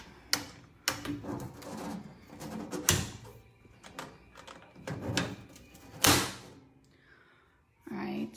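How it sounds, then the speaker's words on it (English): A sandblasting cabinet door shuts with a few solid thunks and latching clatters amid handling noise, used for blasting stainless tumblers and glass, recorded close in a workshop. "So I'll place my cup inside, close the door."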